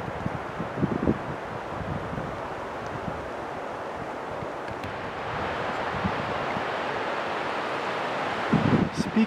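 Wind blows steadily through golden aspen trees beside a Rocky Mountain backpacking trail, a continuous broad rushing of leaves and gusts that swells slightly toward the end, with wind buffeting the microphone.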